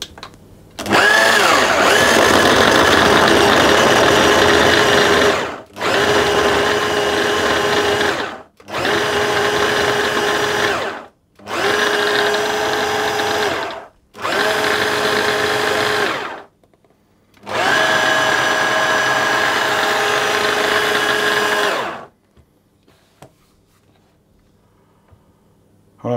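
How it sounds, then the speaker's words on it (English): A food processor blitzes pastry mixture to fine breadcrumbs in a kitchen, running in six loud whirring bursts of a few seconds each, separated by short pauses, then falling silent. "I'm simply going to process those or pulse them until the mixture resembles a fine breadcrumb"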